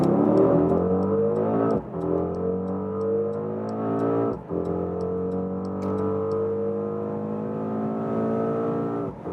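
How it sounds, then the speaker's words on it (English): A Mercedes GLE 63s AMG Coupé with a 4-liter twin-turbo V8 accelerates hard in race mode, engine note climbing through the revs with two sharp breaks at gear changes, loud and continuous, heard from inside. "63S, more than 600 horsepower from this 4-liter V8 bi-turbo. And we'll go to the race mode and start from 40 kilometers an hour"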